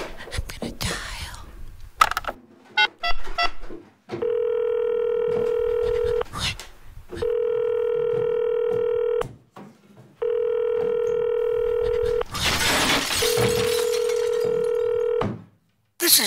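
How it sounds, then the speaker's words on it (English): A telephone is dialed to call 911, with faint whispered voices and clicks first, followed by four long, even tone bursts with short gaps between them and a burst of noise near the end. "I have to find a phone. Here it is. I'm gonna dial."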